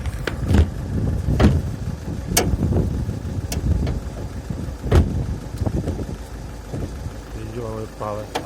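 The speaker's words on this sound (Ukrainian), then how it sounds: "Мотор робить чистенько, акуратненько." A Toyota Proace van engine idles steadily nearby with a low rumble, punctuated by clicks and knocks, while someone talks over it.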